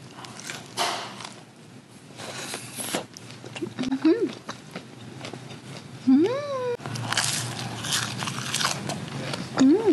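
Fried balloon shrimp snacks bitten and crunched close up, several crisp bites spread through the stretch amid other small noises, with a few short vocal sounds in between.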